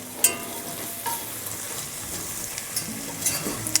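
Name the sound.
whisking flour into sizzling onions in pot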